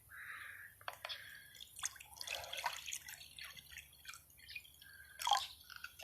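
Two cups of water poured into a measuring container during a kids' garden science activity, heard as faint, intermittent trickling and dripping splashes close by in a quiet room.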